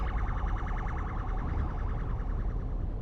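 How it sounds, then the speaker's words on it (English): Modded police sirens in Euro Truck Simulator 2 wail continuously in a fast, rising and falling warble, loud and close over a low truck engine rumble. "That's crazy. They're absolutely crazy, them police sirens."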